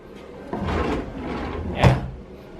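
A small hotel room drawer slides open and shut nearby, giving two soft rumbling glides and a sharper knock as it closes, with no speech.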